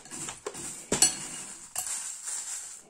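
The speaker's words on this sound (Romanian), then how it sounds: "Le amestecăm frumos" A spoon mixes ingredients in a bowl for a homemade breakfast. There are close, bright clinks and scrapes of metal against the bowl in a few quick strokes.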